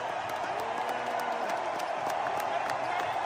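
A sustained roar of clapping and cheering fills an arena as the Portland crowd stays on its feet for Damian Lillard, the applause even and unbroken.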